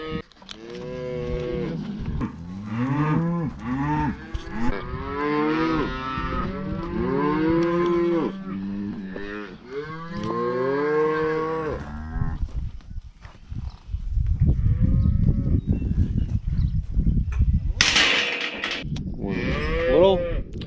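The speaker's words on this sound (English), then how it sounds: "There's 6 calves in here. There's 7 cows over there." Cows and calves being hauled to pasture moo loudly and repeatedly, with long overlapping calls up close, followed by rumbling movement noise and a few more moos near the end.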